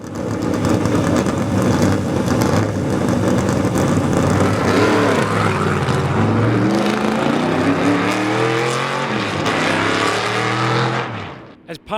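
Ford Mustangs lapping Charlotte Motor Speedway, their engines roaring loud and steady, with rising revs as cars pass close before the noise fades away at the end. A voice is faintly audible beneath the engines.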